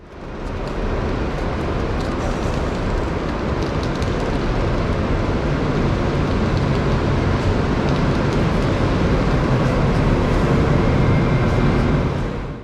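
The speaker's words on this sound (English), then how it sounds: "Eventually our train arrives from the Czech capital Prague on time." RegioJet train from Prague hauled by a Siemens Vectron locomotive pulls into a station, a loud steady wall of rumbling, rolling noise lasting throughout.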